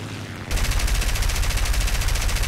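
The multiple machine guns of an I-15WR plane in War Thunder open up after a brief lull, a dense, continuous rapid-fire rattle that stays loud and close.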